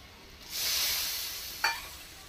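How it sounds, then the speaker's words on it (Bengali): A ground paste of poppy seeds and mustard frying in oil lets out a soft, steady sizzle that swells and then eases. A short scrape of stirring cuts in near the end, and no one speaks. "মশলাটা খানিকক্ষণ তেলে ভেজে নেব।"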